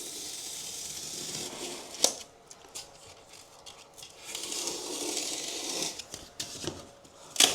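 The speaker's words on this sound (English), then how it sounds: "go across it with a knife" A utility knife slicing across carpet underlay, a quiet close-up rasping, scraping cut with soft rubbing strokes and a couple of sharp clicks, no talking.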